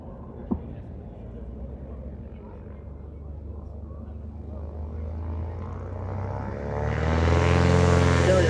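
A light touring-class airplane with a 235 horsepower engine takes off at the Valdez STOL competition in Alaska, its propeller drone building steadily and swelling louder near the end, with an announcer talking over it.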